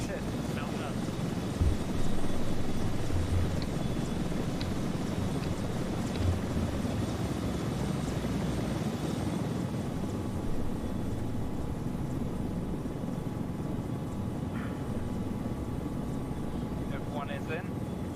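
Helicopter in a military video game, a steady low rotor and engine drone running throughout with faint clicks and game noises on top.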